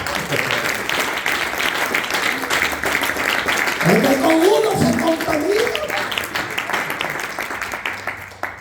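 A church congregation claps steadily throughout an evangelical service, a loud continuous wash of hands while a preacher talks over it.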